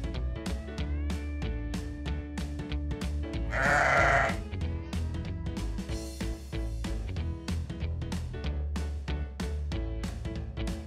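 A cartoon sheep in a children's farm-animal learning game gives one loud bleat of under a second, set over steady, cheerful background music.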